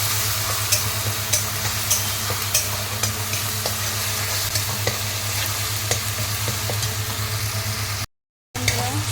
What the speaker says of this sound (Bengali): দিয়ে এবার ভালো করে কষাতে হবে যতক্ষণ না পেঁয়াজ আদা রসুনের গন্ধটা চলে যায়